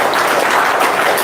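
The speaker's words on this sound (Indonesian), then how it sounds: "Wow, tepuk tangan dong, luar biasa." An audience claps briefly during a motivational talk, a short, loud, dense burst of many hands that holds steady without pause.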